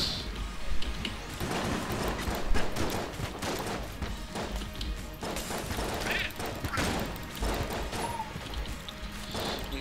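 Rapid shotgun blasts and clattering gunfire in the roguelike shooter Enter the Gungeon, dense bursts of shots and impacts over a steady game background.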